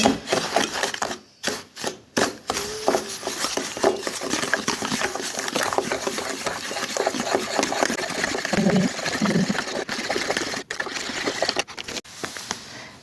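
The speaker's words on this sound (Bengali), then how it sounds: "একটু সয়াবিন তেল দিয়ে দিব তারপর ভালো করে নেড়ে নেব" A spoon stirs batter in a bowl after soybean oil is added, giving continuous scraping and rubbing strokes at close range, with brief pauses and some talk partly over it.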